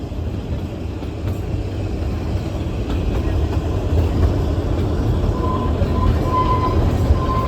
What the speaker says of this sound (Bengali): সিমলা ঢুকছে আমাদের টয় ট্রেন।